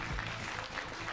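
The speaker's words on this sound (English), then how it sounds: "a big round of applause for Mr. Jaja Ishibashi" Audience applause fills the room at a TGR GT Cup Asia Finals 2024 ceremony, a brief, moderately distant patter of many hands clapping at once.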